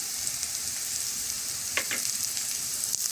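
Fried onions sizzle steadily in a pan while turmeric and salt are stirred through them, a constant close frying hiss with a couple of faint scrapes of the spoon.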